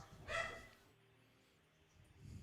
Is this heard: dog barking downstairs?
yes